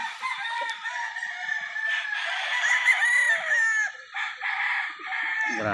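A game-farm rooster crows loudly and close by in one long, drawn-out cock-a-doodle-doo, with harsh strained harmonics, followed by a short cluck at the end.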